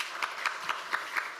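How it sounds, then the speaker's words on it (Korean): A church congregation applauds during a Sunday service, giving rhythmic, evenly spaced clapping at a steady beat, moderately loud and sustained. "박수해 주시길 바랍니다."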